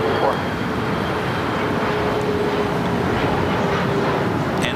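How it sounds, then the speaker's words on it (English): A British Airways Boeing 777-300ER from London Heathrow touches down on the south side at LAX, producing a continuous jet roar with a thin engine whine, steady and fairly loud throughout. "This 777-300ER touching down here on the south side."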